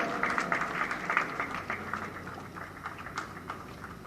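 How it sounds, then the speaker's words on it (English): An audience claps at the STONA 2023 closing ceremony at BIEC, Bengaluru. The applause is a dense, steady patter that slowly thins and softens toward the end. "give a big round of applause."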